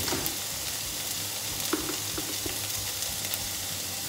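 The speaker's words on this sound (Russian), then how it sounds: "Так, муку слегка обжариваем." Steady, soft sizzling of flour frying in a pan for cottage pie, with a few faint scrapes and clicks of stirring close by.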